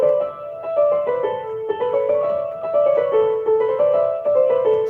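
A keyboard plays a run of white keys in quick stepping notes, one pitch sounding off against the rest; the tones ring clearly with no talking.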